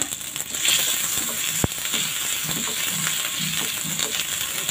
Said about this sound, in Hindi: कटी हुई हरी मिर्च, लहसुन, अदरक को डाल के मंदी आंच में थोड़ा सा भून ले